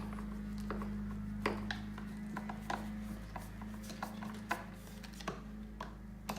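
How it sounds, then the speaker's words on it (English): Bolts being tightened on a BMW RT passenger backrest rack, with faint irregular ratcheting clicks and metallic taps close by over a steady low hum. "we always tighten the front bolts first. Snug them down nice and tight."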